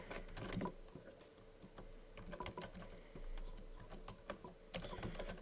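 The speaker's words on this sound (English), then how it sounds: "You just type in your name and your email address." Quick, irregular clacking of computer keys while a name and email address are typed in, with bursts of keystrokes close to the microphone and no talking.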